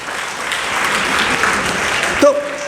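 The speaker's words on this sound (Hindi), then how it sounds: "तालियां बजा दो।" Children clapping together in a classroom-style gathering, a dense, fairly loud burst of applause that runs steadily and ends with a short tonal sound near the close.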